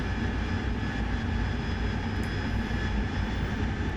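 A Harrier's jet engine roars steadily in a DCS World combat flight, a loud continuous drone with a constant whine and no talk over it.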